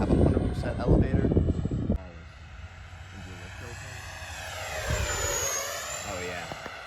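A Freewing F-14 64mm electric ducted-fan RC jet flies with its wings swept. A close voice talks at first, then the jet's whining whoosh swells and fades as it passes overhead.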